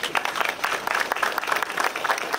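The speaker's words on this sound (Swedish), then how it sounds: "kan vi inte ge det ordet en applåd nu direkt" Applause from the audience at the 2012 opening of the Coop Konsum store in Töcksfors, a steady patter of many hands clapping fairly close by, continuous and moderately loud with no talk over it.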